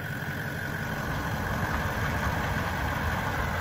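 Toyota LandCruiser LC79 engine running steadily while the 4x4 creeps forward in mud with only the rear locker engaged, a continuous mid-low drone with constant loudness and no talk.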